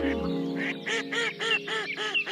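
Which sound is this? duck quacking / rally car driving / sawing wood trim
duck quacking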